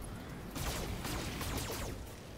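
Mech weapons fire in the Roguetech BattleTech game: a dense volley of rapid shots and impacts starting about halfway in, mixed with game ambience at moderate volume.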